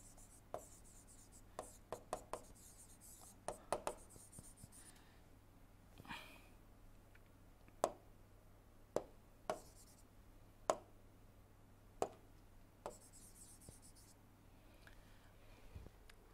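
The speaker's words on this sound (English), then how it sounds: "So, let me write" Pen or chalk strokes during a thermodynamics lecture on the SI engine Otto cycle, sounding as sparse, sharp taps and short scratches spread irregularly over a quiet background with soft breathing.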